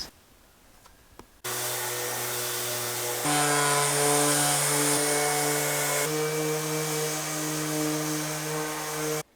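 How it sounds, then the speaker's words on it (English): Sanding of a plywood van ceiling with 180-grit sandpaper, heard as a loud, steady motorized whine that starts abruptly and shifts pitch twice, running on alone without talk. "we have 180 grit sandpaper right here. And I'm just gonna go over it lightly just to level everything out"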